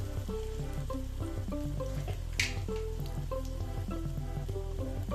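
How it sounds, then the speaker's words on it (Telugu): Crushed garlic and mustard seeds sizzle in hot oil, a continuous frying hiss over steady background music, with a brief splutter midway. "ఇప్పుడు ఇందులో మనం దంచుకున్న వెల్లిపాయలు వేసుకోవాలి వెల్లుల్లిచ్చి స్పూన్ ఆవాలు"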